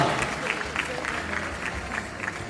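An audience applauds to welcome two popular Rwandan actors on stage, giving a dense, steady clapping from a fairly distant crowd that fills the whole moment.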